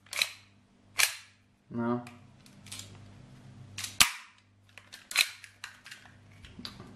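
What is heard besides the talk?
Army Armament R28 CO2 gas blowback airsoft pistol firing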